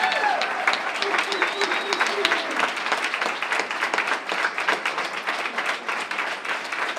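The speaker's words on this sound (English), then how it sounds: "Let's give a real, true round of applause with some whooping to these people." An audience breaks into sustained applause, thick rapid clapping with scattered whoops and crowd noise rising over it, continuous throughout.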